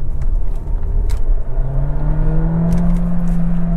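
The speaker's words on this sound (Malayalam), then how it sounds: "ഞാൻ ഒന്നുകൂടി കാലം കൊടുക്കാം" A Skoda Kushaq 1.5 DSG car accelerating, heard from inside the cabin as a steady low engine drone with a rising whine climbing in pitch, no talking.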